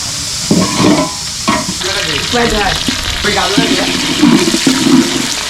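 Meat spices with chili powder, coriander powder, salt, cumin and ginger paste frying in a pot on a clay stove, with loud continuous sizzling and bubbling under steady stirring scrapes, close.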